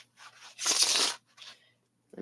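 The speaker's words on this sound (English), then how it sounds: "Let me shuffle this up." Gold foil tarot cards are shuffled close by in a few quiet, papery bursts, one longer riffle between shorter rustles.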